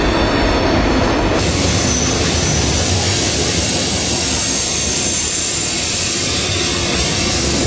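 A train roars past close by, a loud continuous rumble and rushing clatter of wheels filling the whole clip.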